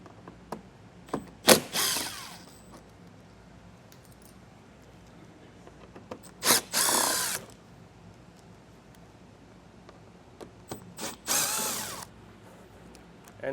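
Cordless power tool spinning out wheel well liner fasteners on a 2024 GMC Canyon, three short loud whirring bursts a few seconds apart, with faint clicks and handling noise between them.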